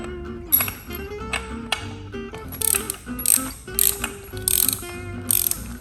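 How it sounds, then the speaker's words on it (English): Socket wrench ratchet tightening a bolt on a beam clamp with a 24mm socket, giving loud close bursts of metallic ratcheting clicks with bright pings in an uneven series of strokes. "socket and same size of the wrench, and we're basically going to tighten that."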